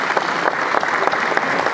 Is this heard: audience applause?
yes